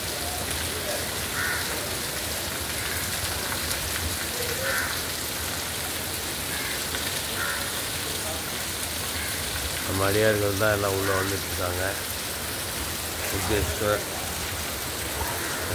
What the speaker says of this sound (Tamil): அதிகாலை பொழுது அற்புதமான மழை வெள்ளம்